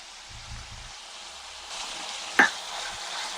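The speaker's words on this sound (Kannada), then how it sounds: "ಒಂದು ಸ್ಪೂನ್ ಶುಂಠಿ ಬೆಳ್ಳುಳ್ಳಿ ಪೇಸ್ಟ್ ಹಾಕ್ತಾ ಇದ್ದೀನಿ." Ginger garlic paste sizzles as it hits a hot pan while a restaurant-style matar paneer masala is cooked, giving a steady close frying hiss with one brief sharp spatter near the middle.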